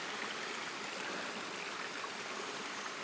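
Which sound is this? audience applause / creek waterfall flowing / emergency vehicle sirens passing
creek waterfall flowing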